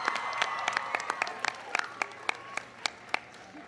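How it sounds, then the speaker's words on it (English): Audience applause greets Mae Jemison, the first African-American woman in space, at a student stargazing event with President Obama; scattered, distinct claps ring out in a loose, uneven rhythm at a fairly quiet level. "Give her a big round of applause."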